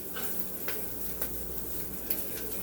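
Bacon fries in a pan on a cold morning, giving a soft, even background crackle with a few faint spatula scrapes and taps, and no one speaks.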